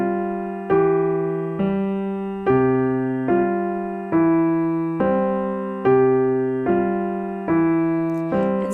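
Piano left hand rolls a broken-chord Alberti bass figure while the right hand holds a sustained note, giving steady, evenly spaced repeating arpeggios with clear attacks, played alone and close.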